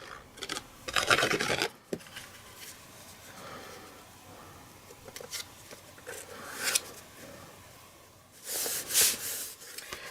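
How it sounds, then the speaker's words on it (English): Embossing plates on a card front are cranked through a die-cutting machine, giving rasping, grinding rolls in several bursts with quiet gaps between, close and alone with no talking. "the top embossing plate, which is another platform 3, and I'll run that through the machine"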